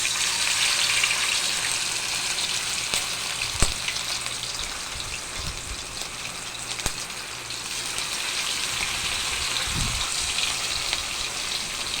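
A pork chop fries in a pan with a steady, fairly even sizzling hiss running throughout, broken by a few soft knocks and low thumps; no talking is heard.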